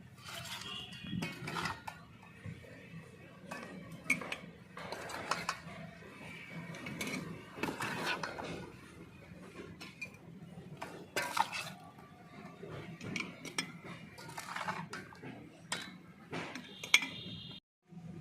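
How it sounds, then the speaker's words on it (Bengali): Homemade jackfruit pickle being spooned into glass jars: soft scraping, squishy scooping and light clinks of a spoon against glass continue steadily up close at low volume, with no talk. "এক এক করে সব বয়ামে আমি ইঁচড়টা দিয়ে দেব"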